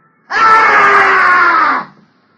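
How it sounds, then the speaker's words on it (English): A wild, hoarse human scream in an old-time radio detective drama, one loud sustained cry of about a second and a half that cuts off abruptly, alone in silence. "A wild, hoarse scream."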